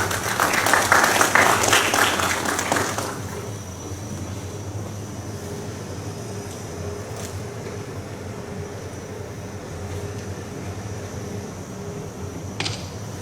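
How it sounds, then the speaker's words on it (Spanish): Audience applause welcoming an engineer speaker at a formal institutional lecture in Lima, loud dense clapping for about three seconds, then fading into a steady hum of room ambience. "a cargo del ingeniero Johan Rojas Hincho, a quien recibimos con fuertes aplausos, por favor."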